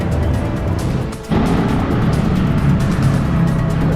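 Busy road traffic thick with motorcycles, a dense continuous engine drone with passing vehicles, a brief dip near the start before the roar resumes steadily close by.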